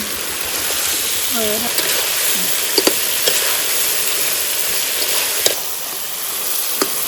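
Koi fish frying and being stirred in hot oil make a steady, close sizzle, with sharp scraping clicks from the stirring and a short voice sound near the start.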